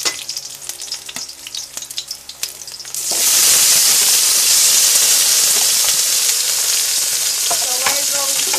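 Tomatoes dropped into a hot pan for pork sinigang burst into a loud, close sizzle that starts suddenly and holds as a broad steady hiss, with some stirring clatter underneath.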